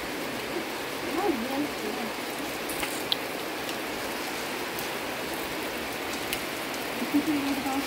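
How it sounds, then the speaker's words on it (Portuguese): Heavy rain pours steadily during a November thunderstorm over houses, a dense continuous hiss of drops on surfaces with no thunder clap standing out, while someone talks faintly now and then over it. "Ó, escuta só o barulho da chuva, pessoal"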